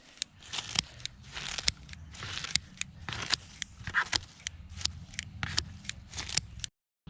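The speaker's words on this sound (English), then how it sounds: "chop them up with the scissors" Scissors chop tomato plant cuttings up close, a quiet, rapid run of crisp snips and rustles in an uneven rhythm.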